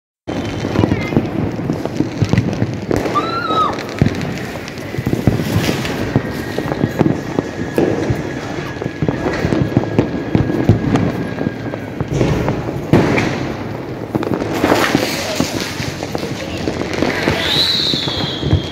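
Diwali firecrackers crackle and pop continuously over a noisy outdoor scene, with a couple of whistling streaks rising; people call out in the background.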